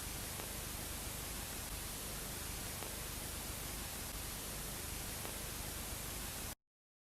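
Steady broadband white-noise static of the kind used in analog horror fills the air, even and loud throughout, then cuts off abruptly near the end with no voices.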